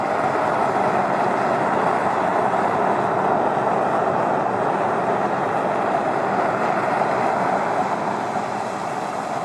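A gasifier cookstove driven by a computer fan roars steadily like a small jet, a constant loud whooshing rush of blown air and flame that holds unchanged for the whole stretch with no talk.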